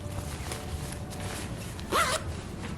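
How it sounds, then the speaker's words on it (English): A zip on an interior pocket of a pink Lululemon Wunder Puff jacket is pulled in one quick, close rasping stroke, with faint fabric rustling around it and no voices. "There's also 2 interior zip pockets inside the coat as well"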